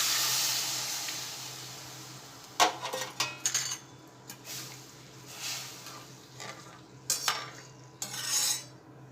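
A spoon scrapes and knocks against a pot while kadhi with jaggery is stirred, making irregular clinks and swishes over a low steady hiss and hum, with a few louder scraping strokes.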